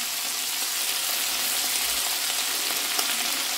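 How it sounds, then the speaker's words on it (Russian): Chopped onion fries in a pan as part of a beef stroganoff, giving a steady, dense sizzle that runs evenly throughout at close range. "Лучок нужно тоже, чтобы поджариться."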